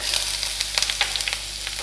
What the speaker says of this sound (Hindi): तेल हमारा अच्छे से गर्म हो गया है अब हम इसमें डालेंगे हमारा लहसुन अदरक